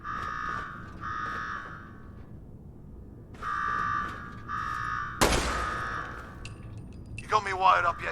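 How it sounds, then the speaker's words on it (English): A Fallout 4 alarm blares in repeated two-beat buzzing pulses, loud and steady, then breaks off as a sharp clank and a voice speaking take over. "Now go shut off that damn alarm."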